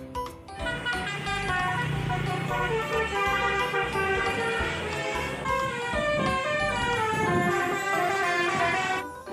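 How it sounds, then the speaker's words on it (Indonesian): Telolet bus horn playing a loud, continuous melodic tune of overlapping tones that runs steadily through the whole stretch with no pauses. "Wow, ini bus telolet."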